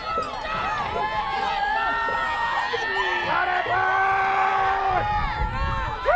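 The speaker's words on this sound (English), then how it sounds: "Some big crowd cheers for their home state ambush." Home crowd at a Women's Football Alliance game, CT Ambush hosting Maine Mayhem, cheering loudly with whoops and yells across the stands, sustained and fairly close, with a commentator's voice running over it.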